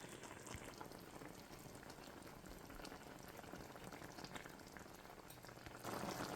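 Chicken adobo with vinegar and oyster sauce simmering in a pot, a steady soft bubbling hiss that continues throughout and grows slightly louder near the end.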